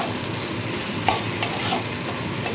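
Spice masala fries in oil as it is stirred, a soft steady sizzle with occasional scrapes and clinks of the spoon against the pot, close up and without speech.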